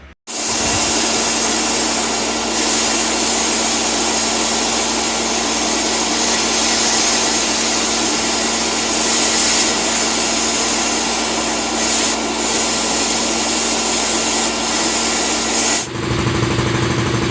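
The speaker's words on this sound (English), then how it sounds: "start off with a wire wheel, get a lot of it off, and then just try to clean up with the sandblast" A wire wheel grinds continuously at close range, stripping old paint off a vintage 1982 Yamaha XT200 motorcycle fuel tank. The loud, steady whir holds for about sixteen seconds, then cuts off abruptly.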